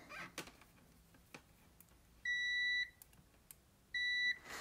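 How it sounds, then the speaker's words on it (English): Two loud electronic beeps from a Klein Tools MM400 multimeter in diode-check mode, each about half a second, sounding roughly a second and a half apart over a quiet background with faint clicks. "it gives a nice loud beep"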